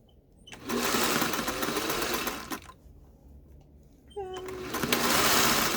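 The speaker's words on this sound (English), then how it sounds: "stitching up to that point, but preferably not through" Sewing machine stitching an underarm gusset into a garment, running in two close, whirring bursts with a quiet pause between them and no talk.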